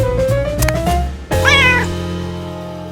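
Feral cats meow indoors, one drawn-out call with a rising, wavering pitch followed by a second sharper meow partway through, close and fairly loud over a low steady hum.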